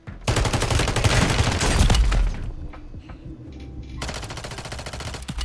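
Rapid automatic gunfire from Call of Duty Warzone, loud close bursts of machine-gun fire, a short lull of scattered shots, then another sustained volley.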